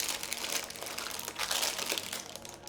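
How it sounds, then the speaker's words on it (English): Parchment paper folded and crumpled by hand after blind-baking a pie crust with beans, a loud continuous crinkling and crunching close up, no voices. "the good thing about having all this extra parchment is that we're going to be folding it up"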